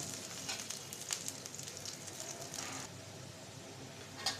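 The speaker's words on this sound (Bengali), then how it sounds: "লাল লাল করে পেঁয়াজ রসুনটা ভেজে নেব" Oil sizzles and crackles steadily, with occasional louder pops, as chopped onion and garlic fry in a pan close by.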